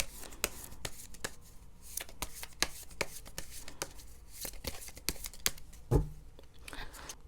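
Tarot cards being shuffled and drawn by hand, a steady run of crisp riffling snaps and slaps repeating throughout, close up with no talking.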